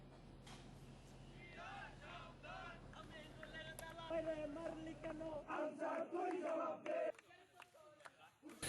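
Students on a protest march chant slogans in unison, a crowd of voices rising in rhythmic shouted bursts over a constant low rumble before the noise drops away near the end.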